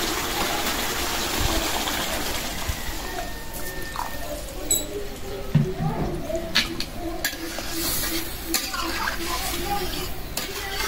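Water poured into a simmering curry to make gravy, a gushing splash and bubbling over the cooking, with some stirring and a voice briefly nearby.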